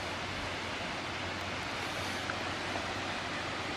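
A steady, broad rush of two or three small waterfalls flowing into a small bowl fills the scene, constant and even from start to finish, with no voices.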